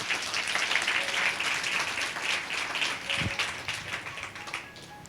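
A Sunday church congregation claps for God in steady, dense applause, moderately loud and continuous, with a brief low thump partway through.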